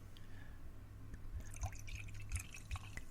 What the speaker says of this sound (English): we're going to pour it into this glass